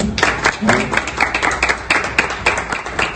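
Crowd at an anniversary celebration claps in a quick, rhythmic pulse, the beats close and even, with voices mixed in beneath the clapping.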